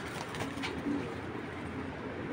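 Grizzle pigeons coo softly and faintly, with a few low murmuring calls over quiet background noise.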